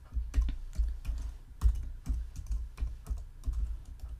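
Fingers type on a computer keyboard in a rapid, uneven run of close, crisp key clacks, about a dozen strokes in a steady patter, with no speech.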